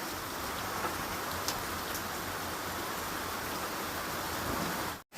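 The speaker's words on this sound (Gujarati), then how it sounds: "વરસાદ તો જો આવે છે ભાઈ" Steady, dense rain falls in an outdoor rural setting beside livestock during heavy monsoon weather, a close, even hiss of countless drops with no voices until it cuts off briefly at the end.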